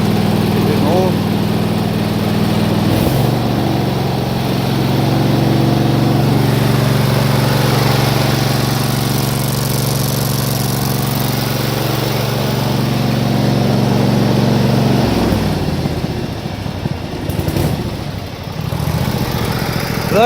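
Small lawn mower engine with a custom exhaust, idling briefly then revving up to a steady, loud drone above half throttle for several seconds before dropping back down.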